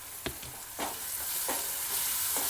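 Soaked whole mung beans sizzle in a hot pan of tempered oil while a spoon stirs them, giving a continuous bright fry hiss cut by a few soft scraping strokes. No one speaks.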